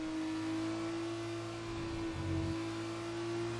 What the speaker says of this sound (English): This is one of the coolest sounding cars.